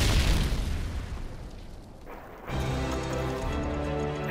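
Grenade explosion in a video game, a heavy booming blast rolling out at the start and a second low burst partway through, followed by sustained rumbling.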